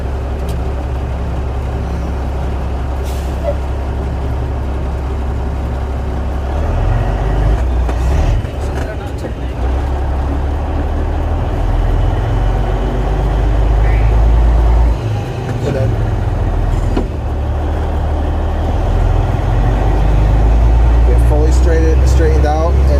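A 1999 Peterbilt dump truck's diesel engine creeps along in first gear, a steady low rumble that swells in the middle and end, with an instructor talking over it throughout.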